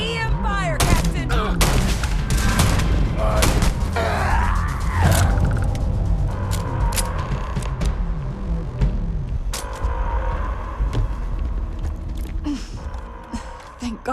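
EM rifle fire in the sci-fi game Starfield, a dense run of sharp shots and bursts with mechanical creaks and clanks, loud and close throughout, with voices shouting at times during the firefight.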